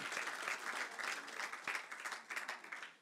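Congregation applauding during a church service, dense continuous clapping from many people lasting a few seconds, fairly distant and soft.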